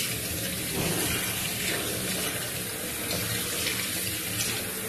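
Tap water runs steadily into a sink, rinsing the parts of a Staresso Mirage espresso maker after use; a continuous close, hissing gush with no talk over it.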